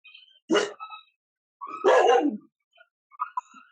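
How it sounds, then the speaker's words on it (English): Dogs bark nearby in two sharp, loud barks about a second and a half apart, followed by a fainter, shorter yip, with quiet gaps between and no talking. "we have the dogs barking."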